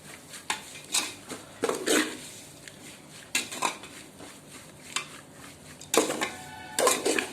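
Spice powder is stirred into frying vegetable biryani in a pan, with a metal spoon scraping and clanking against the pan in irregular bursts of clatter amid quieter stretches.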